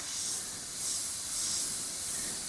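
An airbrush sprays paint at 20 psi, giving a steady close hiss that swells and fades in short bursts, with no talking.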